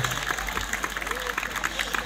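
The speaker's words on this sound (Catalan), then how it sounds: "Un aplaudiment, tant." An audience applauds steadily throughout at a live outdoor children's music concert in Sant Cugat, with dense continuous clapping and crowd noise over a low rumble.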